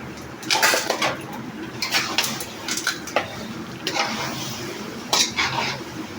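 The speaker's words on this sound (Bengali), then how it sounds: "এই যে আমরা চিনি দিচ্ছি, এখন চিনি দেওয়া হচ্ছে" Sugar tipped into a cooking pot and stirred, with a spoon scraping and clinking against the metal in repeated bursts over a steady low background hiss, close and moderately loud.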